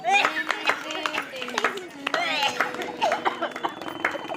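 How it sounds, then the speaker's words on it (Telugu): A group claps in a quick patter of hands at a birthday celebration, close by and mixed with overlapping chatter and voices. "చప్పట్లు కొట్టినాం"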